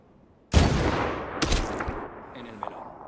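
A single sharp sniper rifle shot in the video game Medal of Honor, loud and close with a long rumbling decay, followed by a fainter second report and scattered distant game effects.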